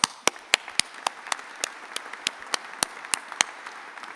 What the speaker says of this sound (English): ask you to join me in a round of applause for Katie and Joanna